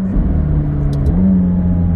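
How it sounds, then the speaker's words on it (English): A McLaren 720S sports car engine revs through downshifts, a loud steady rumble with rising pitch swells, close up and alone without talk. "Downshifts feel really good."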